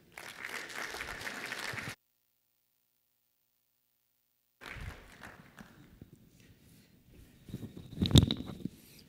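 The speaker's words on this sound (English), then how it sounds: "a warm round of applause for Ken." A keynote audience in a hotel grand ballroom applauds, a short burst of clapping, then a gap of silence, then softer clapping that swells again near the end with a sharp knock.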